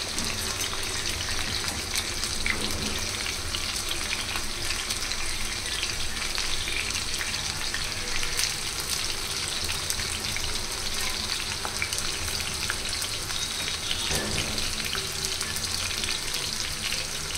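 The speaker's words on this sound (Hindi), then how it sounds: "तो ये देखिए फ्राई हो रही है मच्छी।" Fish frying in a pan over a high gas flame, a steady dense sizzle and crackle running continuously and evenly throughout, close and fairly loud, with no talking.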